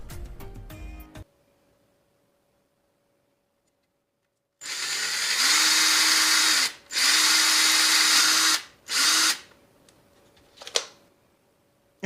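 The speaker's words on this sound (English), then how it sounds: "you're just going to take a drill bit and drill a hole in each corner" Power drill boring holes into the corners of a mini pallet: three loud, close bursts of whirring drilling separated by short pauses, followed by a faint clatter, with no talking.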